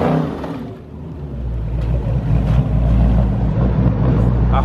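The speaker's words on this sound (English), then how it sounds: "Al just burnt out in their car" A Dodge SRT8 with a 6.1 Hemi V8 doing a burnout: a loud, sustained low engine roar that swells after a brief dip and holds steady at close range, with no talking.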